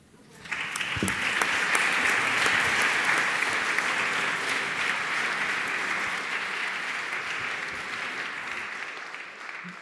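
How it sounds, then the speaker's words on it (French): Sustained applause from an audience at a round-table evening forum, swelling quickly and holding steady for nearly ten seconds, full and close. "On peut les applaudir, effectivement"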